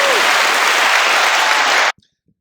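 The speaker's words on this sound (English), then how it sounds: "Let's clap it up one more time." Audience clapping at a live talk-show taping, a dense, loud wall of applause that holds steady and then cuts off abruptly, leaving near silence with a couple of faint clicks.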